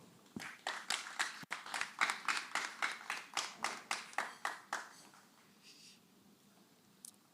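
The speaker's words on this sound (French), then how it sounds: "le public applaudissez fortement pour eux" Applause at a Miss Universe DRC 2025 pageant broadcast comes as a run of strong rhythmic bursts of clapping that fade out near the end, followed by a single faint clap.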